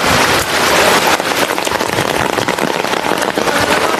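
Heavy rain pours down during flooding in Khulna, a loud, dense and unbroken hiss of drops hitting surfaces that stays close and steady throughout, with no voices.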